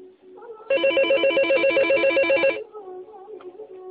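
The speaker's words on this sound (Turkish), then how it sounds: "Telefon çalıyor." A telephone rings loudly and steadily in a warbling electronic trill for about two seconds, close by, then cuts off into quieter room noise.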